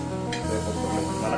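Egg chutney cooking in a pan, giving a steady sizzle with stirring scrapes, close and fairly loud, with a voice faintly present underneath.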